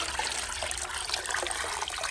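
Water trickles and splashes as seed water is poured into a medaka tub, a steady close liquid pour without talking.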